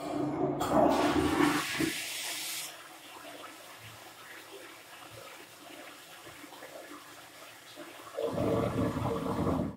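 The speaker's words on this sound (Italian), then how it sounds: "direi certamente di tirare lo sciacquone su questo Occhiali Neri" A toilet flush roars in loudly at the start, settles into a quieter trickle and gurgle of refilling water, then surges up again near the end. The sound is close and there are no voices.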